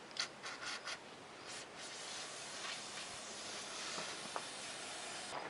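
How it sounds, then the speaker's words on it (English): Cloth wiping spilled brake fluid off motorcycle brake parts during a front brake upgrade to dual-piston calipers: soft, steady rubbing and scrubbing close up, with a few quick strokes at the start, and no talking. "Clean off all the brake fluid here."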